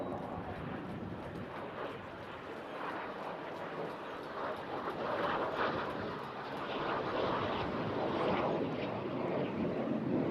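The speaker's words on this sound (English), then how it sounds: "Topside pass from David Gibbs in the Jet Provost Mark T5." A Jet Provost T5 jet trainer makes a topside display pass at the Eastbourne International Airshow, its engine a distant, steady roar that swells gently as it passes, heard over open-air ambience.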